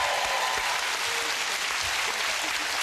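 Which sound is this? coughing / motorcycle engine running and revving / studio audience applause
studio audience applause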